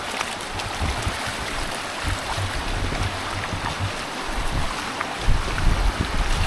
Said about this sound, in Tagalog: But this is the Tukuran Falls.